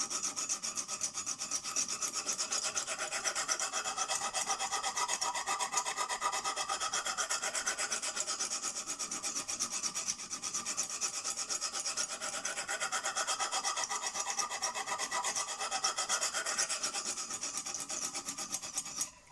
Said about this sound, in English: this is just a hand sharpening device